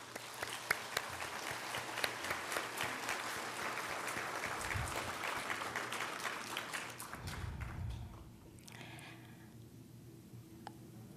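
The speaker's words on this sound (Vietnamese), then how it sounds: "Xin quý bạn cho một tràng pháo tay đến tất cả." An audience at a closing ceremony of a gathering claps in a steady round of applause that fades out near the end, leaving quieter room sound with a few scattered claps.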